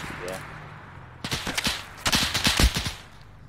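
Gunfire in ARMA 3 rings out in sharp bursts, an early short volley followed by clustered rapid shots in two bunches, crisp and fairly close against a quiet background.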